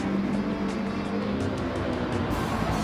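Race car engine from Gran Turismo 7 drones steadily at high revs, loud and continuous, with tyres losing a little grip on dirt at the inside of a corner.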